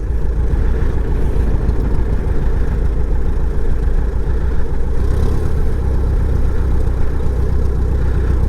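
Super Baby Great Lakes biplane engine running steadily while taxiing on grass, a loud continuous low drone with no pauses or talk.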